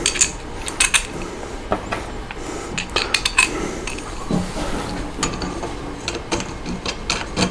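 Four bolts drop into the top rail of an Ender 3 Pro 3D printer. Small metallic clinks and rattles sound up close in a quick irregular series, with light handling noise between them.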